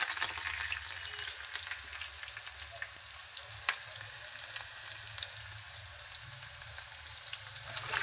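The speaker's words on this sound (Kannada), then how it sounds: "ಇದನ್ನು ಫ್ರೈ ಮಾಡಬೇಕು." Green chillies and curry leaves fry in a pan for South Indian upma, giving a steady, close sizzle and crackle with occasional pops throughout.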